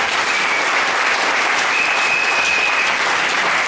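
Church congregation applauding steadily throughout, a dense, sustained clapping crowd with no pauses.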